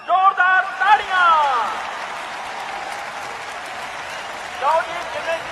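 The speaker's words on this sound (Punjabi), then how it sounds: "ਜ਼ੋਰਦਾਰ ਤਾੜੀਆਂ" A crowd applauds at a local cricket tournament during a prize announcement, a burst of clapping that swells and fades over a few seconds while someone speaks loudly over the start and end.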